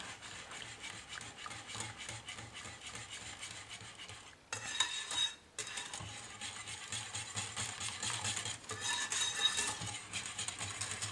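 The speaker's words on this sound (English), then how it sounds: "Then I'm going to switch over to a rubber spatula." A rubber spatula stirs and scrapes hot ice cream base in a pot, soft rhythmic rubbing with a brief pause partway through, close and quiet without talk.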